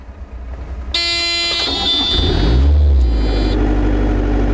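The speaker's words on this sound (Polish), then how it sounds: "Odpalamy wózek." A JCB forklift truck's engine starts with a starter whine and catches into a loud, steady idle rumble close by, with no one speaking.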